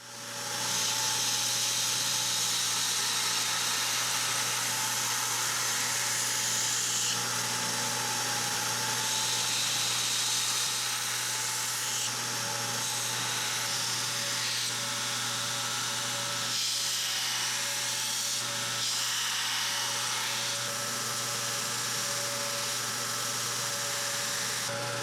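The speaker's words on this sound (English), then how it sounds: "time to grind it. Get the bevels done" A steady, continuous grinding whine with a constant motor hum runs throughout, loud and unbroken, with slight shifts in pitch as a knife blade is pressed against the grinder to shape its bevels.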